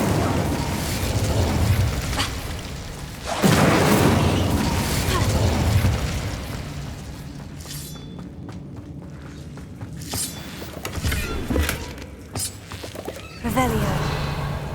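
Incendio fire spell cast in Hogwarts Legacy, a loud whooshing burst of flame followed by crackling, booming impacts and footsteps, with a voice speaking over it.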